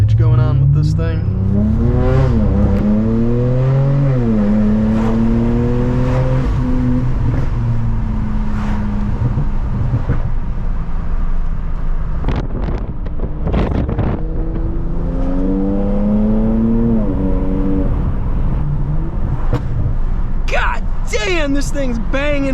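A BMW 335i with a loud, throaty, muffler-free exhaust accelerates and revs through several gear changes, its engine note rising and falling, close and loud.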